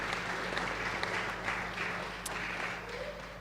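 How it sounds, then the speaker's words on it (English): An audience at a livestreamed cryptography talk applauds a speaker: a dense, steady wash of many hands clapping that fades slightly toward the end, heard from within the room. "So applause for Todd, please."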